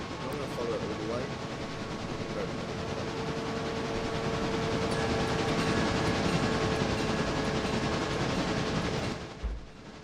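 A model freight train rolls steadily along the track of a model railway branch line, a continuous close rumble lasting several seconds before cutting off.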